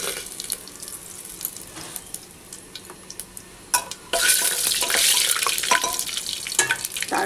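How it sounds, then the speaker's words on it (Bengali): Whole garam masala, bay leaf, dried chili and cumin are dropped into hot oil, which bursts into a loud, hissing sizzle partway through after quieter stirring and clattering, then keeps crackling close by. "এই যে গোটা গরম মশলা, তেজপাতা, শুকনো লঙ্কা আর জিরে সোমবার দিচ্ছি।"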